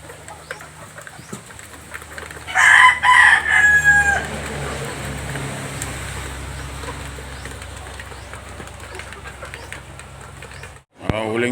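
A rooster crows loudly nearby over the steady chatter of chickens in a backyard coop, with a person talking intermittently.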